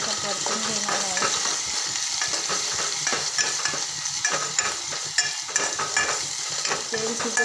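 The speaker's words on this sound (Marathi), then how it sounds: "आता मी लसणाची पेस्ट घालणार आहे आणि भाजून घेतलेलं खोबऱ्याची पण पेस्ट घालणार आहे। त्याला छान असं परतून घेणार आहे।" Onion with garlic paste and roasted coconut paste sautéing in a pan, a steady close sizzle of frying with continuous stirring and scraping throughout, no voices.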